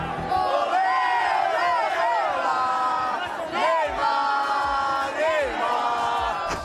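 Football crowd at a Brazil versus France match chanting for Neymar, a massed rhythmic sung chant with rising and falling phrases repeated in waves, loud and full, with whoops mixed in.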